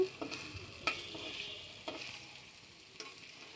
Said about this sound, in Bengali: দুটো ডিম ফাটিয়ে দিয়ে দিচ্ছি।